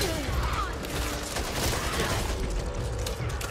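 Dense, rapid gunfire from the Back 4 Blood video game, a continuous volley of overlapping shots running loud and unbroken throughout, with faint voices underneath.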